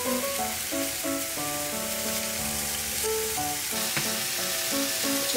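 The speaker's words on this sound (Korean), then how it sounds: "이렇게 미리 한번 구워주는 과정을 거칩니다. 앞뒤로 골고루 구워줍니다." Deodeok roots grilling in a pan on low heat, turned to cook both sides, a continuous soft sizzle and crackle with tonal background music running throughout.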